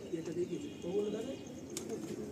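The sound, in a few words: Mangalgiri pigeon cooing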